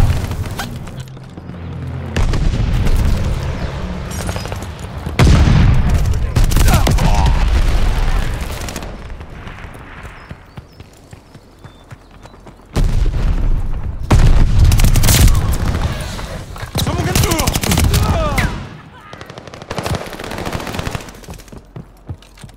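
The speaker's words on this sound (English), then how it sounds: "They tossed the sticky bomb!" Heavy bursts and booms from a sticky bomb blast and automatic gunfire in a Call of Duty: Vanguard Domination match, loud close volleys coming in waves with quieter gaps between them.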